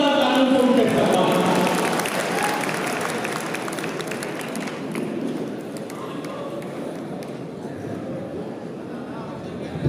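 A mushaira audience applauds a poet loudly and steadily, dense clapping that fills the whole span and tapers slightly toward the end while a voice speaks over it.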